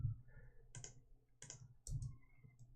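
Keys on a computer keyboard being typed in short bursts of several crisp clicks, quiet and close, with gaps between the bursts and no talking.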